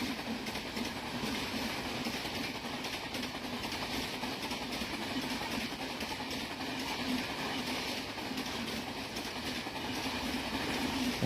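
An Indian Railways train runs along the tracks, a continuous loud rumble with steady rhythmic clatter of the wheels and cars, with no clear pause across the stretch.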